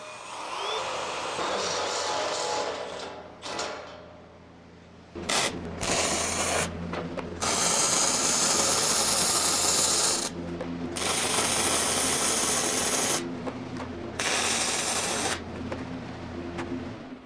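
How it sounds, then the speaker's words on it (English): A drill bores a clearance hole through steel on a homemade welding cart, running in loud grinding, chattering bursts that stop and restart several times, close up with no talking. "I need to drill out beneath this hole here to give clearance for the fastener"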